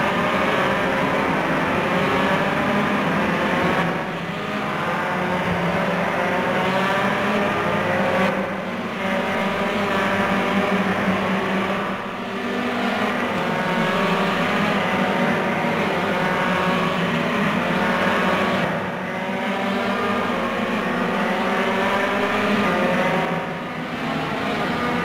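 A Formula 3 race car engine screams steadily in the RaceRoom racing game, holding a loud high-revving note with brief dips at regular gear shifts and no talking over it.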